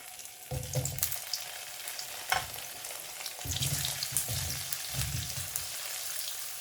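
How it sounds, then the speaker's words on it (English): Small cubes of paneer (cottage cheese) crackle and sizzle in hot oil in a karahi, a steady fry punctuated by bursts of louder spitting and a few clinks as the pieces are turned, with no voices. "this is 225 grams of paneer, cottage cheese, and I've cut it into small cubes. We have to fry these first."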